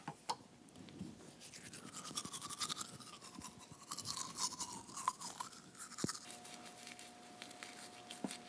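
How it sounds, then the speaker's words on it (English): A toothbrush scrubs teeth with toothpaste in steady, close brushing strokes lasting several seconds, with faint bristle scratching and light wet patter and no talk. "And we brush."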